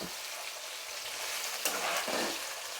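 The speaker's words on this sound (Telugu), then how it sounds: "ఇలా మనం ఆయిల్తో కొద్దిగా వేపుకోవాలి" Field bean seeds fry in shallow oil for a snack mixture, giving a dense steady sizzle with brief bursts of stirring near the end; no talking.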